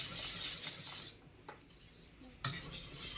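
Gelatin being stirred into a lemon cheesecake mixture, a soft continuous swirl of a utensil against a bowl with a couple of light clicks, faint and close, no talk.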